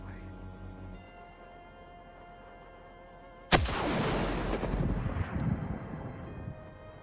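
A single sudden gunshot rings out after a few seconds of quiet room tone and faint background music, loud and sharp, followed by a long rumbling echo that slowly fades.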